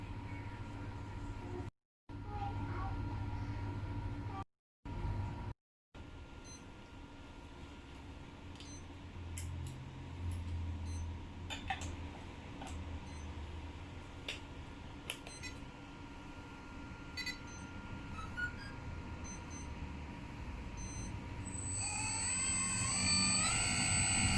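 A Huina 1580 1/20-scale RC excavator runs its hydraulic pump, a quiet steady mechanical whir with a few brief dropouts and rising, higher-pitched motor whine near the end, with no voices.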